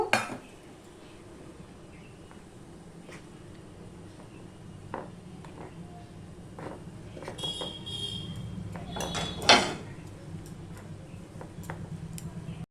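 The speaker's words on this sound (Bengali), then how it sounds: "এবারে অল্প অল্প জল দিয়ে একটা ব্যাটার তৈরি করব" Gram flour batter is stirred with water in a bowl, giving soft scraping and light clinks of a utensil against the bowl that repeat through a steady, quiet background.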